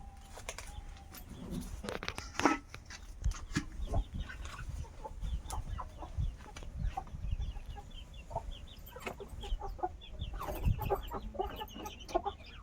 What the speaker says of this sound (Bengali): মুরগিগুলো এবার ছেড়ে দেবো